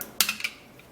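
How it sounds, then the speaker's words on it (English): Spoon stirring egg white into yogurt in a bowl, giving a few brief close clinks and scrapes against the bowl in quick succession, then quiet. "Just a little quantity of this egg white is perfect. And now we would have to stir."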